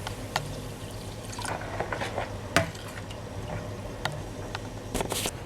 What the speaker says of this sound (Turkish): Şöyle bir karıştırıyoruz.